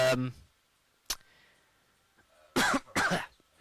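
Two harsh, close coughs in quick succession near the end, after a brief vocal sound and a short sharp burst, with quiet gaps between.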